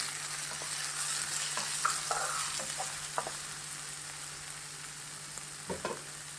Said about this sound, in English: Now I will add tomatoes to this. let tomato saute for a while, 2 to 3 minutes.